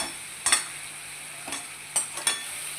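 Spice mix and a spoonful of ghee sizzle in a pan, a steady frying hiss broken by a few brief scrapes and clinks of stirring.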